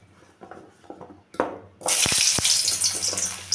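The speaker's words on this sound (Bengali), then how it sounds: "আলুটা ভেজে নেব প্রথমে।" Potatoes dropped into hot mustard oil for a prawn and taro curry: after some quiet clinks, a sudden loud burst of hissing sizzle starts and keeps going close by.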